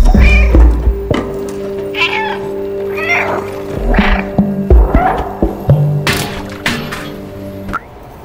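A cat meows repeatedly in the video game Stray, several short clear calls spaced over a steady hum of game music, fairly close and loud.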